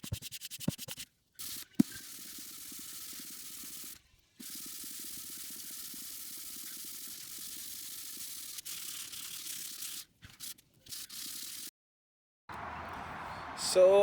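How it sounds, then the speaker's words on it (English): A wooden block is sanded by hand at high speed, a steady scratchy rubbing that runs in long stretches broken by short pauses, close and moderately quiet, with a brief different noise near the end. "you'll see me sanding here at a high speed because it took me at least an hour or two to get every side of this block here"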